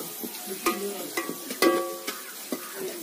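Grated radish (mooli) for a Bihar village-style bhaji fried with a little turmeric, a spatula scraping and knocking the pan in a few sharp strokes over a low, steady sizzle, close by.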